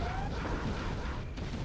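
Explosions in the 2004 real-time strategy game Command & Conquer Generals: a dense, continuous wash of rumbling blasts, fairly steady in loudness throughout, with a brief thin tone at the start.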